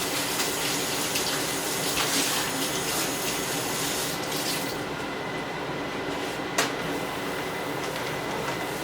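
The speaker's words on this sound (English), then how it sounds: "let me wash my hands." Tap water runs steadily into a kitchen sink while hands are washed, a continuous broadband rush with a faint clink near the end and no talking.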